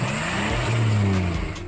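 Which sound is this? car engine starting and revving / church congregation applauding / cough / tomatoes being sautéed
car engine starting and revving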